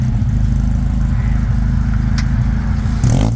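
A spare Volvo rolls up at a drift event, its engine giving a steady low rumble throughout, loud and close, with a brief rougher burst of noise near the end.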